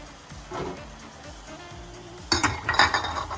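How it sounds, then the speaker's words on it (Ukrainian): Five glass jars set one after another into a sauté pan holding a little water, giving sharp clinks and knocks, quiet at first and then a louder cluster of glassy taps near the end. "В Сотейник наливаю трошки води і ставлю банки."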